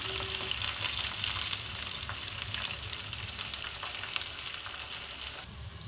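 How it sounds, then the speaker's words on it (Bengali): Slit green chillies and curry leaves fry in hot oil, a dense, even sizzle close up with light crackles and small pops, continuous and unaccompanied by any voice. "এর মধ্যে আমি কাঁচা লঙ্কা আর কারি পাতা দিয়ে দিচ্ছি।"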